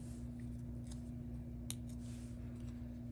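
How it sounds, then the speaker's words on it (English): Scissors snip off a small piece of backing paper during Stampin' Up! cardmaking, one brief crisp cut standing out over a steady low electrical hum. "And cut this little piece off."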